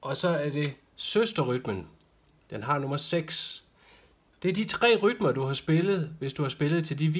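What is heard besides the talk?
No distinct noise like a dog, phone or traffic.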